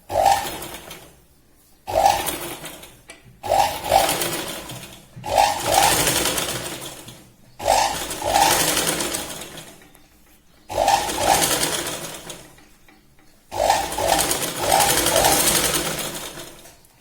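A sewing machine runs in repeated bursts of stitching, about seven runs separated by short pauses, loud and close, while sewing the shoulder seam of a katori blouse.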